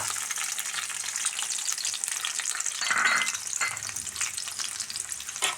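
Chopped onion sizzling steadily in two tablespoons of hot coconut oil in a pan for a curry, a continuous frying hiss with a brief stir partway through and no talking.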